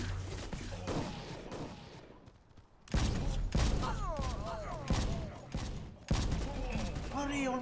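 Gunfire from stim guns in the shooter game Guns of Boom, a dense run of rapid shots in several bursts with short gaps, close and loud, mixed with game effects.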